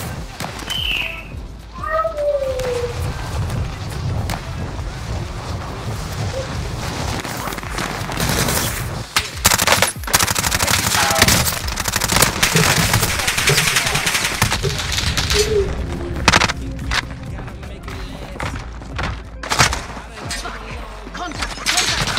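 Rapid bursts of video game gunfire crackle repeatedly under a player's voice and a background meow-like sound during a Goat Simulator-style Caldera session.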